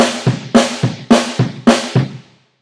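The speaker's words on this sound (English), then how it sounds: "All the time you play the bass and the snare opposite." Acoustic drum kit with bass drum and snare struck in alternation, four snare hits answered by kicks in a steady, close, dry pattern with no talking.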